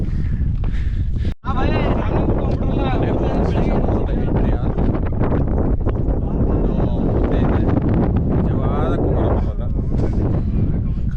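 Strong wind gusts buffet the microphone on the Kumara Parvatha mountain trek, a loud continuous roar with one brief dropout, while hikers talk over it.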